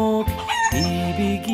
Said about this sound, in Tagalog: Alagaan mo ang manok